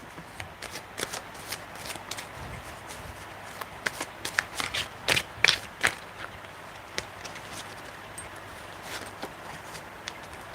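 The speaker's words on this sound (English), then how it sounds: "I'm going to pull some cards for TVXQ" Tarot cards shuffled by hand in a steady run of crisp riffles and slaps, close and fairly quiet, with a few louder bursts in the middle and no talking.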